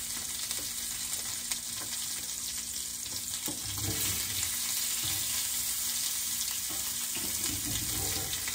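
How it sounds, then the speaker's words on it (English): Hands being washed under a running kitchen tap, a steady water hiss with occasional splashes and soft thumps, close and fairly even throughout; no talk. "I'll wash my hands up real quick."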